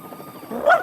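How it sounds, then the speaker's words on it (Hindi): Odie, the cartoon dog from Garfield, barks once, a short tonal yelp swelling near the end of the moment, fairly close and alone without talk. "भौंकना बंद करो।"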